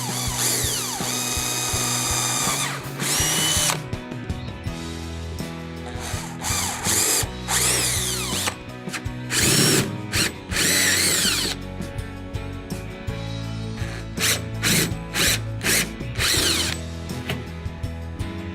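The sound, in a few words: power drill drilling holes in a kayak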